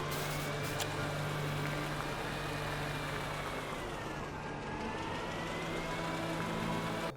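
A tractor vehicle in the game Astroneer, its engine droning in a steady, continuous hum with slight pitch shifts and no talk.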